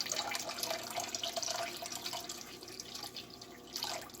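Vinegar poured into a bowl of water for cleaning small pieces of salmon, a steady close trickle and splash of liquid running throughout.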